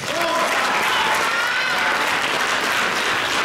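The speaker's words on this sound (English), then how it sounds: "Big round of applause" An audience applauds at a NABBA Midlands bodybuilding show, with dense, sustained clapping and a faint voice or tone briefly audible early on.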